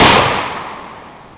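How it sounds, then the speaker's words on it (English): A Confederate muzzleloader rifle fires a single loud, close blast that decays over about a second, with no voices. "Ready, aim, fire."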